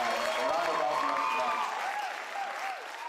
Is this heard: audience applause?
yes